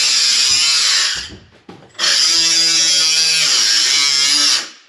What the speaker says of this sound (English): Working and cutting the bar out